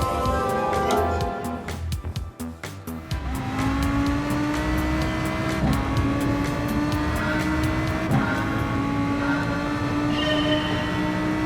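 Race cars roar along the wet Tokyo Expressway in Gran Turismo Sport, a loud continuous engine drone with rising revs and gear shifts, steady and close throughout.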